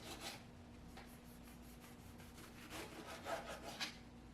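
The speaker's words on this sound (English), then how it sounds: "Now I'm going to slice my tomatoes." A knife slices tomatoes on a cutting board, a series of soft, irregular strokes at low volume over a faint background hum.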